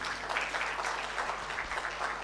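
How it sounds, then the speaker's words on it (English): Audience applause at a women's economic forum in Kenya, a dense steady patter of many hands clapping in a hall, sustained at moderate volume throughout. "Can we give a round of applause?"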